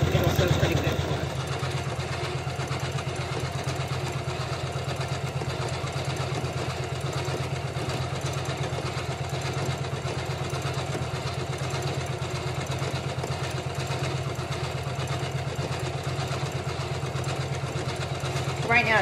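A Janome 500E embroidery machine stitches a surfboard design onto a summer t-shirt with thick thread, giving a steady, fast rhythmic whirring hum that continues evenly throughout, with a voice talking over it.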